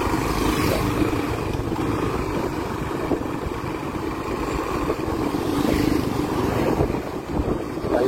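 Barako 3 motorcycle engine running rough with a badly misfiring, uneven idle, loud and close with a steady rumble and irregular stumbles throughout.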